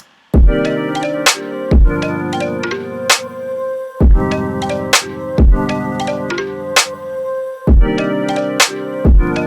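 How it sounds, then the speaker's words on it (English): A beat with sidechain pumping on the instrumentation, the sustained chords ducking and swelling in tandem with a punchy kick and snare, giving a loud rhythmic breathing pulse across repeated bars. "so that you get this kind of pumping effect on the instrumentation in tandem with the kick and the snare"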